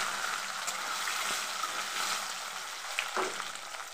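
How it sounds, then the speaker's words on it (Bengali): Potatoes dropped into hot oil already sizzling with whole cumin seeds and a bay leaf, giving a steady close-up frying hiss with a few soft stirring knocks and a brief louder crackle near the end. "ফোড়নটা ভাজা হয়ে গেছে, এবার আলু দিয়ে দিচ্ছি।"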